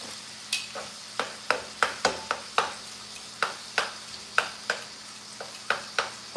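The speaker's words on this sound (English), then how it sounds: "A little bit more sizzle in our bacon." Bacon frying in a pan sizzles with a soft background hiss, punctuated by a steady run of sharp pops and crackles spaced a fraction of a second apart.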